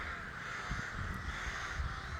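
Ravens caw in their sanctuary, a steady chorus of harsh calls at moderate distance over constant outdoor background noise, with no talking.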